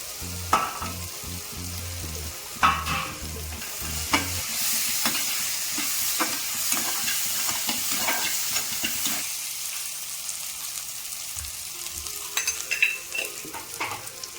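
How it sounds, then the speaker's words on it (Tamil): Okra sautéed in a pan with powdered salt, giving a steady sizzle of frying with repeated scraping and stirring strokes from a spoon, close and moderately loud, then quieter toward the end. "வதக்கி வச்சு வெண்டைக்காய் சேர்த்துக்கிறேன்"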